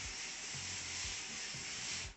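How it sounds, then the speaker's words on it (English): Non-stick cooking oil is sprayed from an aerosol can onto aluminum foil in a kitchen, one continuous close, loud hiss lasting about two seconds that cuts off sharply at the end. "I like to spray the bottom of the aluminum foil with some"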